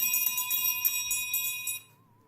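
A bell rings continuously with a sustained metallic tone, close and fairly loud, then its ring decays away into quiet near the end; the bell is a grave alarm bell, rung by someone buried alive to alert loved ones.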